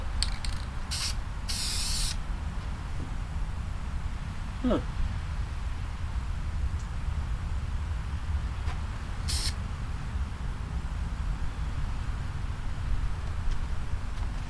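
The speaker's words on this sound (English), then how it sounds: "I'm going to spray paint it pistachio green." Short bursts from a spray paint can, a few quick hisses near the start and another single burst later, over steady windy outdoor rumble.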